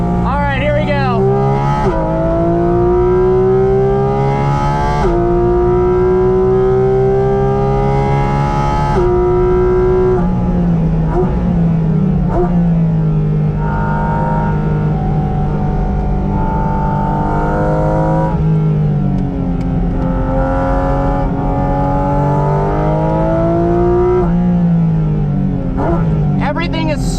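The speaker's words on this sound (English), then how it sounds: "You don't need a V12, a flat 6 is really all you need for an incredible soundtrack." The flat-six engine of a Porsche Cayman GT4 RS revs hard and loud through repeated gear changes, each pull climbing to a high wail before dropping for the next shift, sustained and up close.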